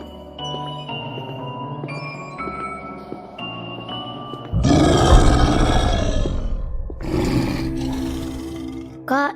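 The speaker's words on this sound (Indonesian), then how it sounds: "Kak, itu suara harimau." Tiger roaring, with a deep guttural roar swelling loudly midway and a second shorter roar near the end, preceded by lower grunting and rumbling tones.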